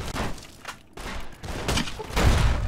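Grenade launcher in Fallout: New Vegas fires several times, loud booming thumps and explosive bursts in quick irregular succession, close and heavy with rumbling tails.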